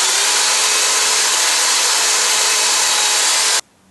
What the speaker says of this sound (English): on this one I got a flap wheel type sanding wheel